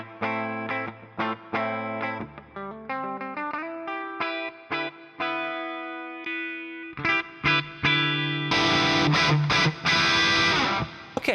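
An electric guitar plays through a Two Notes ReVolt DI with an impulse response and reverb: clean picked notes and arpeggios ring with a reverb tail, then heavier distorted chords build up toward the end, close and without talk.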